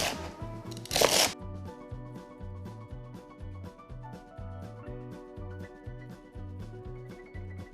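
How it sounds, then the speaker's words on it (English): Cut-up celery pieces are pushed and slid onto a tray, giving soft, quiet, repeated crunchy rustles in a steady rhythm, with a louder brief clatter near the start. "we're just gonna move our cut up celery onto the tray"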